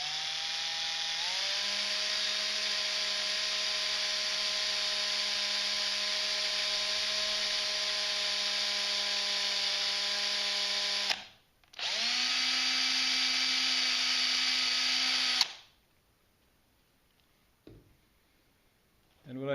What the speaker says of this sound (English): just drilling slowly down through there